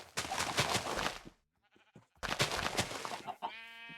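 Minecraft sheep bleat loudly in two long, wavering cries separated by a short silence, followed by a brief tonal game sound.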